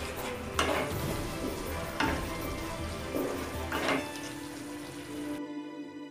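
Spices with red chilli powder and salt being stirred and fried in a pan for a white chickpea and mung bean dish, with a steady sizzle under repeated scraping strokes of a spoon; no talking.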